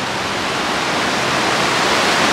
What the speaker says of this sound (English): This should be Oak Creek, running right here through the heart of Oak Creek Canyon, parallel to Route 89A.